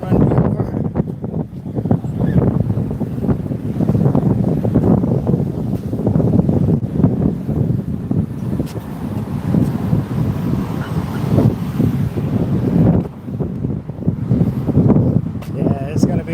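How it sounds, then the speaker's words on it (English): Strong outdoor wind buffets the microphone in a continuous rough roar, gusting unevenly for the whole stretch, with a voice partly buried underneath. "it's gonna be windy like this all the way back to the car"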